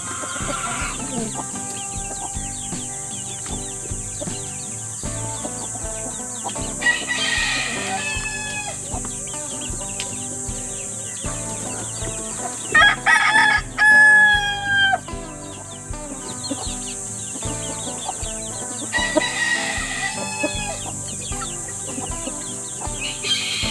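A backyard hen and rooster cluck repeatedly close by, with sharp crowing bursts rising out of the steady clucking at several points over more than twenty seconds, loud against a constant background hum.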